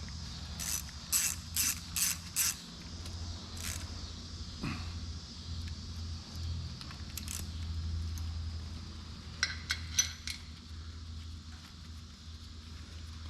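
A ratchet wrench tightens bolts on the heads during assembly of a Silverado Stepside LS3-type engine with a new cam, giving several quick bursts of clicking followed by more scattered clicks over a low steady workshop hum.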